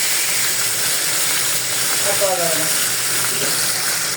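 Padma fish frying in hot oil gives off a loud, steady sizzle and hiss throughout, with a brief faint voice partway through.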